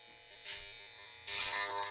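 An armature growler tester for diagnosing power-tool armatures is switched on, giving a close electrical buzz with a steady tonal hum. The buzz swells louder near the end of the short burst, with no voice over it.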